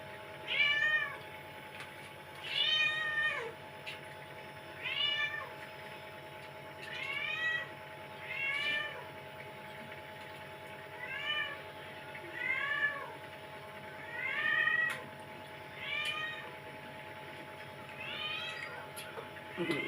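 A cat meows repeatedly, about ten drawn-out calls at a steady pace over a low constant hum, fairly close and moderately loud.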